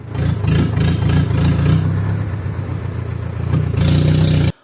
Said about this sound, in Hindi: साइलेंसर का जो इंजन से पाइप होता है जॉइंट वाला, वो हो गया था कट।